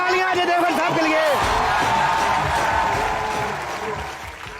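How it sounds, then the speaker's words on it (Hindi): A voice rings out briefly, then a broad crowd applause for actor Ajay Devgan rises at a comedy show, loud at first and gradually fading. "जोरदार तालियां अजय देवगन साहब के लिए।"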